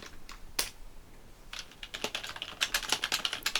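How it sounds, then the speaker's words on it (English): Keys clatter on a Logitech K120 and a Microsoft 600 computer keyboard, sparse at first, then a rapid, steady run of close, crisp clicks growing louder toward the end, with no speech. "Let's do a bit of typing to compare the difference."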